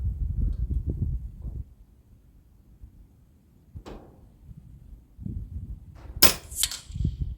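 Sharp airgun reports from a BRK Ghost sub-12 on a 100 m outdoor range: a loud crack near the middle, then a pair of bright, close snaps near the end, between quiet stretches with low background rumble.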